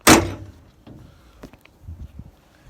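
The repaired door of a 1999 bucket truck swings shut with a single solid thunk right at the start, close and loud, followed by faint small clicks and rustles.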